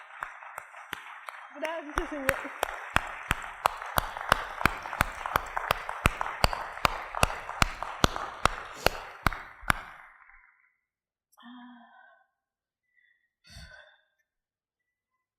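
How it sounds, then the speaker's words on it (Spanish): A church congregation claps in a steady, even rhythm for about ten seconds, the sharp claps standing out over a loud, continuous wash of voices before the sound cuts off and a single voice speaks briefly. "que ustedes me acompañen a darle unas palmas a Dios"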